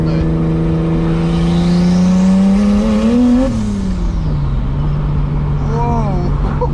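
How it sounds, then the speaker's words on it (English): Turbocharged BMW E30 with an M20B25 inline-six pulls hard in second gear, its loud engine note climbing in pitch to a peak, then dropping off as the throttle lifts, heard close from inside the car. "Let's do a little second gear here"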